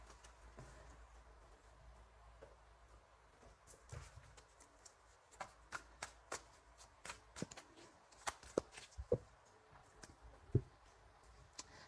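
Tarot cards are shuffled for a reading, heard as faint rustling at first and then a run of distinct soft slaps and riffling taps growing more frequent toward the end, close and quiet, with no speech.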